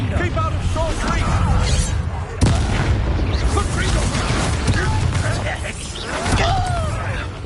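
Spell blasts and booms in a Harry Potter video game, a dense rumbling barrage with a sharp impact partway through, played under constant shouting voices.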